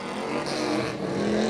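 A drift car's engine roars loudly and continuously at a pro drift tandem battle event, a dense, close engine growl.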